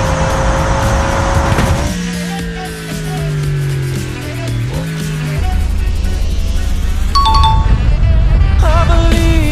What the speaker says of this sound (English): Bugatti is going to 100 miles per hour.